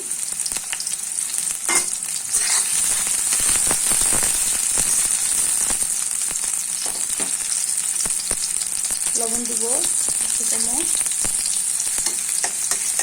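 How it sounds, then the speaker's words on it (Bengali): Sweet pumpkin frying with three large onions and sliced green chilies, giving a loud, continuous sizzle with frequent stirring scrapes, while a person speaks briefly over the cooking. "কিছুক্ষণ ভাজা ভাজা করে নিব"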